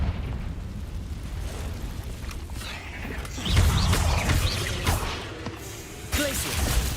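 Fiery Confringo spell blasts from Hogwarts Legacy burst with whooshing pops over a constant low rumble inside a cave, several bright hits spaced across the span.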